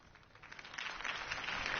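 Crowd applause for Harvey Dent's campaign speech in the Batman Telltale video game, starting faint and rising to a steady, muffled wash of clapping.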